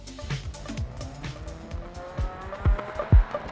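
A revving rally car engine in the video game DiRT Rally with squealing, skidding tires and shifting pitch, fairly loud and close, with sharp low thumps toward the end.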